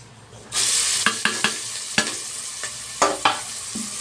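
Curry leaves and chopped onions hit hot oil, and a loud sizzle bursts in, followed by repeated scraping stirs and crackling spatters while frying for a country chicken curry. No talking.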